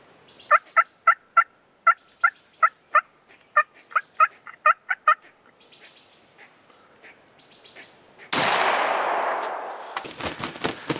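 A wild turkey jake in Pennsylvania grass gobbles in a long series of rapid, rattling calls, fairly close and clear against a quiet background. It ends in a sudden loud burst of noise.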